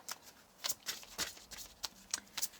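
Oracle cards are shuffled and drawn by hand in quick, soft riffling bursts, with about eight brisk flicks heard close up and fairly faint, with no talk.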